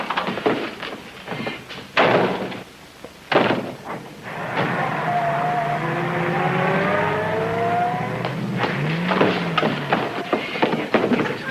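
Getaway car from a 1941 bank holdup driving off: a door slams, then an old engine rumbles and accelerates steadily away, fairly loud and alone without talk.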